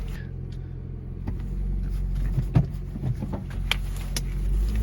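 A Honda Civic engine idles while warming up after a clutch installation, a steady low rumble heard from close by, with a few faint clicks and knocks over the running motor and no talking.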